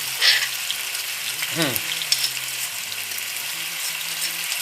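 Tamarind chili paste ingredients stir-fried in a pan, giving a soft continuous sizzle with occasional scraping strokes and a brief clatter near the start; close and moderately loud.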